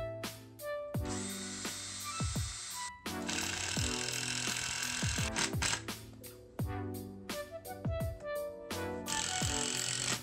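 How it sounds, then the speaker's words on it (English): Cordless drill driving screws through cross supports into wooden slats for a slatted modern shoe bench, in repeated bursts of whirring motor with pitch sweeps as the screws seat, close and loud. "I start with the 2 outermost slats and screw the cross supports in place so that they don't move."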